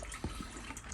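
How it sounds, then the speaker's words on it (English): Mineral water is poured over gold pieces to rinse away tap water before acid refining, giving a soft, steady splash and trickle with a couple of small drips, close and quiet. "I'm going to wash off all the tap water with some mineral water,"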